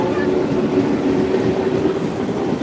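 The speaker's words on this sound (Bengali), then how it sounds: "ট্রেন আসতে সেটা হাওড়া দিকে যাবে" A local train runs past near the Mouri bridge, heading toward Nachhipur, with a steady, loud rolling rumble of rail wheels and carriages that keeps going for the whole stretch, with no talk over it.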